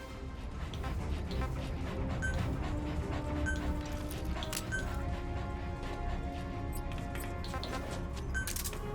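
D-Dog, the canine companion in Metal Gear Solid V, pants steadily and quietly, soft rhythmic breaths heard over a constant game ambience with faint tonal music.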